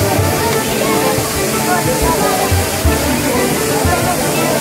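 Dhani Waterfall in Neelam Valley, Kashmir, gives a loud, steady roar of falling water, a dense unbroken rush heard up close for the whole stretch.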